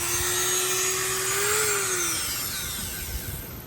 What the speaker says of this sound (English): we're just going to hit this with a sanding wheel on a Dremel